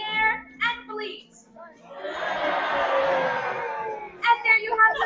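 A theme-park crowd at Disney World bleats together in imitation of giraffes, a sustained, wavering chorus of voices lasting a couple of seconds, framed by a man's speech before and after.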